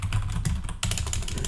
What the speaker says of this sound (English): now I will type the command Jupyter Notebook